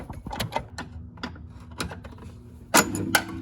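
A ratcheting wrench loosens a bolt on a Jeep Grand Cherokee upper control arm, giving short bursts of close mechanical clicks and metallic knocks in an uneven rhythm, ending in a louder clack.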